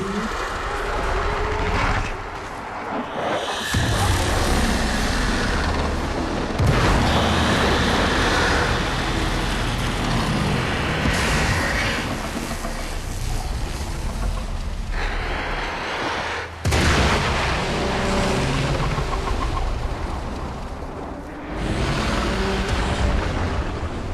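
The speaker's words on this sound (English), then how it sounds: "There should be useful detritus falling from the explosion." A rumbling explosion with falling debris in the video game Warframe, a loud sustained roar with several fresh bursts and crashing surges throughout.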